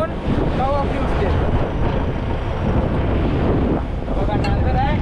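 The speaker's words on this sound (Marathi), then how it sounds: "समुद्राच्या आतमध्ये पोचल्यावरती वारा वाढलेला आहे आणि बोट जाम डोलते" Strong wind buffets a fishing boat out at sea off Mumbai, a loud continuous roar of gusts and rushing water with the hull rocking, steady throughout with a faint tonal squeal near the end.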